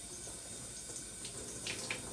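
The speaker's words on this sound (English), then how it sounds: "So I'm going to start by just opening just regular cold water" Cold tap water runs gently onto a Samsung Galaxy A17 5G phone: a faint, steady trickling stream with a couple of small splashes near the end.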